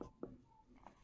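Short strokes of a marker or chalk writing in black on a board during a maths lesson, a few faint scratchy taps in a quiet room.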